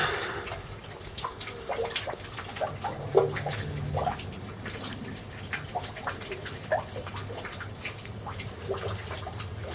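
Water steadily pouring and splashing in a kitchen where the boiler has been torn out, a continuous nearby gush with scattered drips and spatters, no talk.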